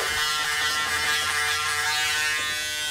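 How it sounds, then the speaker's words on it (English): Braun Series 7 360 Flex electric shaver dry shaving, a steady close buzzing hum running continuously with slight fluctuations as the head moves over stubble, no talking. "It didn't really take that long to touch it up with the dry shave."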